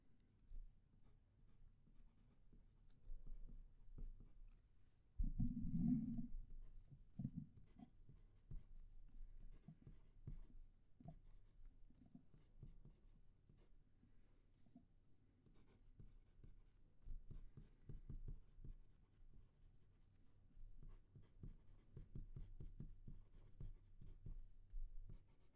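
A broad nib fountain pen moving over paper, giving faint, soft scratching strokes in a quiet room, with one slightly louder scrape early on.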